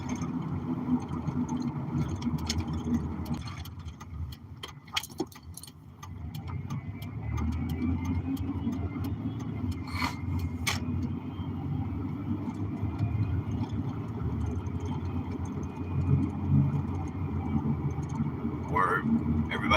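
A car drives down a road with a steady, low interior rumble of engine and tyres, broken by occasional sharp ticking clicks.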